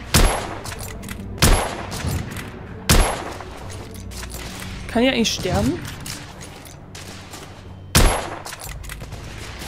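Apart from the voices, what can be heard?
gunfire in The Order 1886 video game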